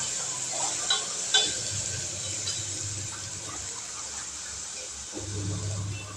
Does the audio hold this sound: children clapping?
no